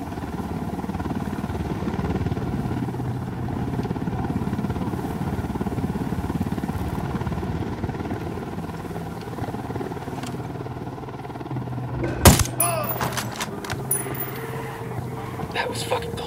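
A helicopter in the video game Ghost Recon Wildlands gives a steady, droning rotor and engine rumble throughout. Near the end, a sharp loud burst breaks in, followed by scattered clatter.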